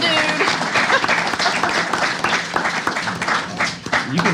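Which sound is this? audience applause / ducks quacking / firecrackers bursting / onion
audience applause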